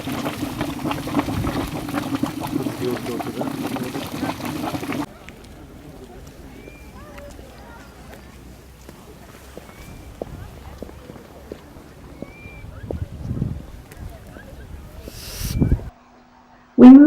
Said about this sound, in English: The geyser goes off every 10 minutes or so, shooting boiling steam 100 feet into the air.